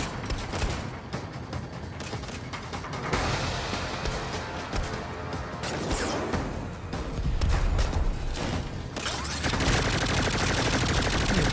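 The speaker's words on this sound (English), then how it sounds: "They're shooting the RV!" Heavy gunfire in the Saints Row game as attackers shoot at an RV, rapid fusillades of shots rattling continuously and loud throughout, with bursts swelling and dropping in dense overlapping volleys.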